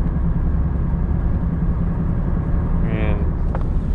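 A 1984 Pontiac Fiero driving on the road, a steady droning engine and road rumble heard from inside the car, with someone talking over it.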